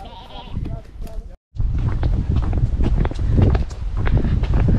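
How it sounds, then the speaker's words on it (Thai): Sheep bleat on a large rural farm amid footsteps and outdoor bustle, the calls fairly close and mixed with voices talking throughout. "นี้เรียกแกะด้วยสิลูก"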